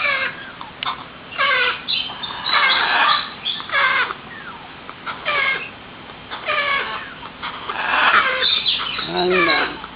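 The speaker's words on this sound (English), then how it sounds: "here's that little squizzy bird" Baby birds squawking in repeated short, shrill bursts close by, calling on and off throughout amid light background noise.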